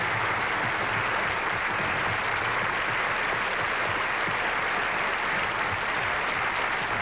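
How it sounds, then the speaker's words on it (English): Sustained applause from a standing audience at a 1985 all-star gala, dense and steady throughout with no break, loud and close. "will you please stand up so that I can applaud you all once more?"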